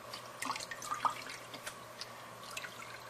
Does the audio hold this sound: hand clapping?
no